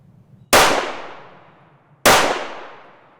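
Two sharp, loud gunshots from a compact handgun firing Blazer 115 Critical Defense ammunition, about a second and a half apart, each followed by a long ringing decay at an outdoor range.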